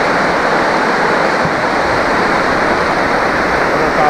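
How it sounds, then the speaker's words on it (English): Loud, steady rush of a snowmelt-swollen mountain creek in the Absaroka-Beartooth Mountains of Montana, a constant broadband roar of water tumbling close by with no pauses. "A lot of water coming down."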